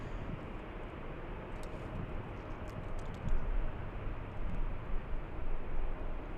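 An airliner takes off at Los Angeles airport, a broad steady roar of jet engines that swells slightly toward the end, with faint clicking over it.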